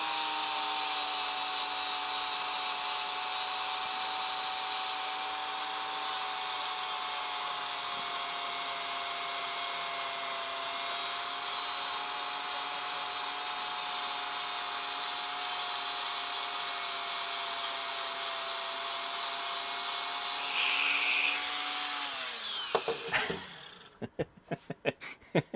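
A Dremel rotary tool grinds at a plastic 30-pin SIMM socket with a sustained high-pitched whine for over twenty seconds, then winds down abruptly into a few faint handling clicks near the end.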